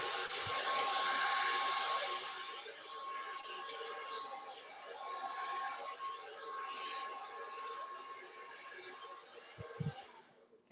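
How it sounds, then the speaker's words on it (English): A hair dryer blows steadily onto wet paint during a paint-night painting session, a continuous broadband whir that stays close and fairly loud for most of the clip before cutting off near the end. "I get my hair dryer and I have no control over what the color's gonna do."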